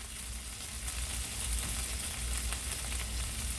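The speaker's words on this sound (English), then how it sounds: "that's how we fry our bacon" Oscar Mayer bacon, cut into quarter pieces, frying in a pan with a steady close-up sizzle and crackle throughout.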